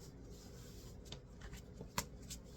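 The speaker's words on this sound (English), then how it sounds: "shuffle the deck again." Someone shuffles a deck of cards, with soft rustling riffles and a sharp snap near the end, quiet and close.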